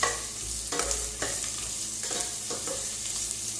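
Sliced onions and curry leaves frying and being stirred in a hot pan for a chicken fry: steady close sizzle with repeated scraping stirs of a spoon, no voices.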